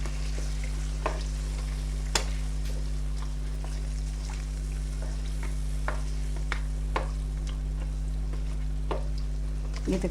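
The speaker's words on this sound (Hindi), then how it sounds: "बस थोड़ा सा मैं इसमें पानी डालूंगी कि इतना कि बस इसमें थोड़ी ग्रेवी हो जाए।" Chicken korma sizzles and fries steadily in a pan after water is added, with occasional stirring clicks and scrapes over a constant low hum, close and continuous with no talking.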